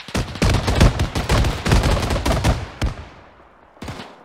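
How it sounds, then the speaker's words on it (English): Sustained ArmA 3 combat gunfire crackles in rapid, overlapping bursts of shots, some loud and close, others more distant, tapering off before one last sharp report near the end. "There are bullets whizzing by here."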